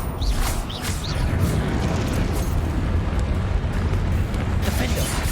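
Expelliarmus spell cast in the video game Hogwarts Legacy, heard as a loud, dense magical blast with a rumbling low roar and crackling bursts that keep going steadily for several seconds.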